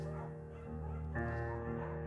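A small scruffy beagle in the video game Firewatch yips and whimpers, soft and close, with short muffled barks over a steady musical backdrop and no talk.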